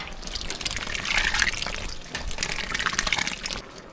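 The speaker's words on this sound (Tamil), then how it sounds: "லாஸ்ட்டாக வந்து புளி தண்ணியை சேர்த்துக்கலாம்" Tamarind water is poured into a large pot of sambar rice with mango being cooked for 80 people, a steady splashing gush that swells, dips briefly, then rises again before tapering off, with no talk.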